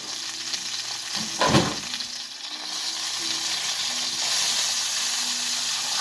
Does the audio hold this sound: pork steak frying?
yes